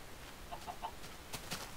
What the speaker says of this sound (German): Hühner, en masse, Kühe, en masse, Schweine, en masse.